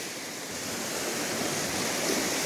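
A creek swollen after heavy rainfall rushes steadily outdoors, a loud continuous broadband roar of water with no talk.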